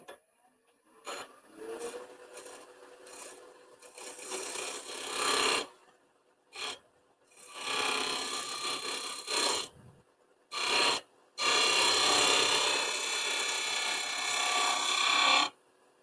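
A woodturning tool scraping along a spinning wooden candlestick on a lathe, heard as a series of rasping strokes of varying length, close and fairly loud, separated by short pauses.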